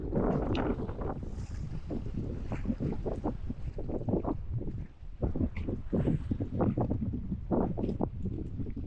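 A fishing boat runs across Lake Apopka during a bass tournament. Hull thumps and engine rumble sit under strong, steady wind buffeting the microphone throughout.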